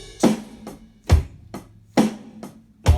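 Four drum kit hits with crashing cymbal wash, evenly spaced about once per second, each loud strike fading into a bright shimmering tail; no voices.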